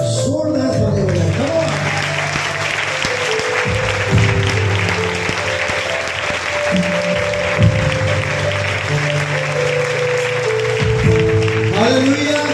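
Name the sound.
loud applause from church congregation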